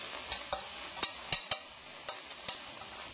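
Ingredients for a lettuce and pork shoulder black-bean sauce are stir-fried in a pan, with a soft continuous sizzle and several sharp scraping clicks of the utensil against the pan, heard close and alone.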